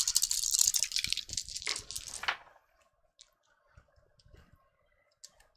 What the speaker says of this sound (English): Oh, now we get to roll our dice.